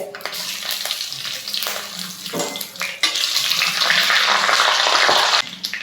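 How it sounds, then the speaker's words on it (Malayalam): Mustard seeds splutter in hot oil with dried red chillies, sizzling and crackling loudly and continuously, with a hissing, spattering texture that swells near the end, close up. "കടുക് ഇട്ട് കൊടുക്കാം ആ കടുക് പൊട്ടി വരുമ്പോഴേക്കും"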